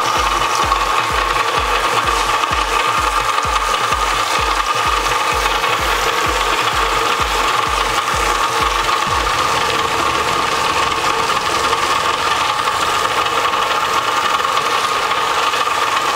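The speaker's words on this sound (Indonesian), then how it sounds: "Oke, kita langsung mixer." Electric kitchen mixer running steadily, a fast regular rattling pulse for about nine seconds that then smooths into a continuous even whir, close and constant throughout.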